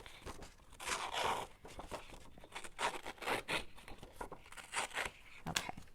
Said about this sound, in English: I'm just going to use my scissors and just roughen this up just a little bit.